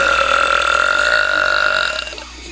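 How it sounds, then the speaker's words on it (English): One long, loud, close belch with a droning, even tone, held steady for about two seconds before it fades out. "I'm gonna start belching now, just for you guys"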